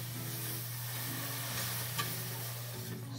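Milk is stirred into a béchamel sauce for a mushroom lasagna, a soft, low simmering bubble with faint spoon movement and a steady background hum.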